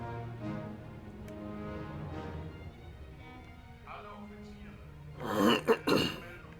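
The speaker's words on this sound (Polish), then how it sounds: "najmocniej Was przepraszam za to chrząkanie" A man clears his throat roughly, with an allergy behind it: a few short, raspy bursts toward the end, following a stretch of quiet murmured speech.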